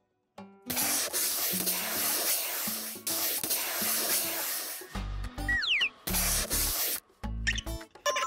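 Brushing kittens in a paper stop-motion animation comes through as loud bursts of bristly hissing strokes, separated by short gaps, with a few squeaky sliding sounds and chopped cuts toward the end.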